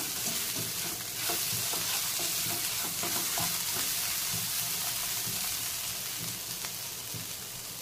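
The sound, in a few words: stirring spinach and pea kachori filling with chaat masala in pan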